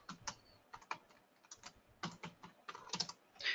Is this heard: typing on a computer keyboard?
yes